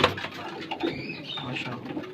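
Pigeons of a low-flyer breed cooing at a home loft, soft low murmuring coos over a faint ambient hum, close by and quiet for about two seconds, with no clear talk.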